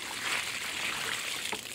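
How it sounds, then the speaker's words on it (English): A liquid mixture is poured onto tomato plants with blossom end rot, giving a steady soft splashing trickle, close and moderately loud, ending in a brief spatter. "let's pour the rest of this mixture on and see how it goes."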